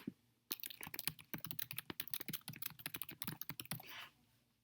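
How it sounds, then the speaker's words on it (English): Rapid, close typing on a computer keyboard, a dense run of crisp key clicks lasting a few seconds, alone and without talk. "I can just type wherever I need to by clicking my cursor in a blank spot"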